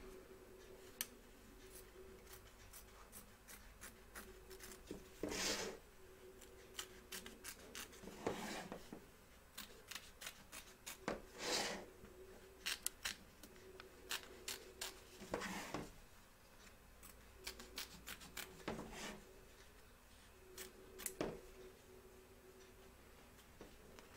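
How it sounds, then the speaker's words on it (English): Scissors trim excess appliqué fabric away from an embroidery hoop with soft, scattered snips and rubbing scrapes, faint and close, with short pauses between cuts. "Trim away the excess fabrics both back and front of your hoop"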